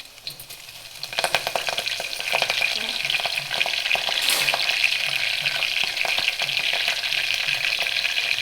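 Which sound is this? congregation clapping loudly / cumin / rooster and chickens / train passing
cumin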